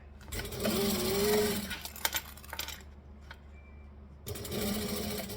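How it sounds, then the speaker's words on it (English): A sewing machine top stitches along the edge of layered fabric, running in two bursts of steady whirring with a quiet pause between them, close and clear with no talking. "we're going to top stitch right at the edge."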